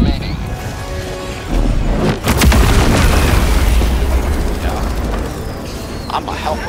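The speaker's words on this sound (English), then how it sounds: "Grenade to throw down in there?" Grenade blasts from the co-op shooter Helldivers 2, a loud booming burst around the two-second mark followed by sustained rumbling and crackling debris, with players talking over the din.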